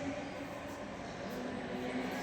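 A train rolls past close to the Vishwashanti Buddha Vihar in Udgir, a steady, loud rumble with a faint humming tone that holds evenly throughout, with no one talking.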